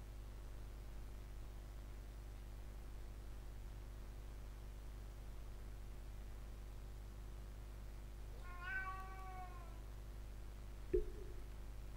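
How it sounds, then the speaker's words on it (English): A domestic cat gives a single short meow, faint and at a distance over a steady hiss of background noise, followed by a soft click. "Hey, kitty."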